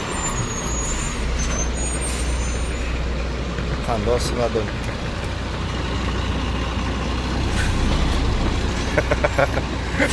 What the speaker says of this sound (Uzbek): Niderlandiyaning mashinasi.